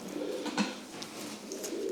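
A pigeon coos softly in a low, rolling murmur over a quiet background, with a faint rustle at times.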